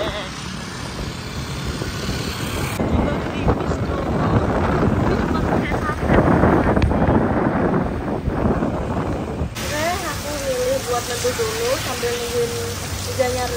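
Heavy rain pours down steadily in a broadband hiss during a wait in Depok, Indonesia, with wind buffeting the microphone and a voice talking over it.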